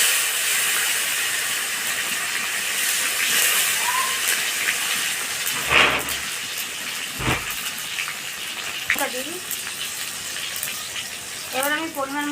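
Chopped tomatoes hit hot oil with whole cumin and bay leaf, giving a steady broadband sizzle and hiss that runs throughout, with a few brief utensil clinks and scrapes.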